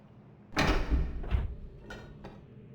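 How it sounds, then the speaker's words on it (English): A tram arriving in the video game Riven, a heavy mechanical thud followed by a couple of softer clunks and a fading rumble, as though a car is sliding into place, with no talking. "we got to go call the tram real quick."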